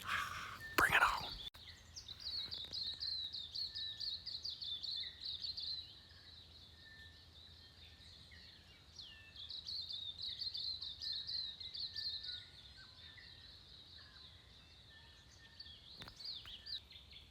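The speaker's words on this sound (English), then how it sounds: "The birds are chirping." Birds chirp steadily in the distance around a bush camp, thin repeated calls running the whole time behind a faint insect hum, with one sharp close knock near the start and no voices.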